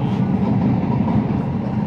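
A train in Japan rolls past close by with a loud, steady rumble and a clatter of wheels on the rails, and no one speaks over it.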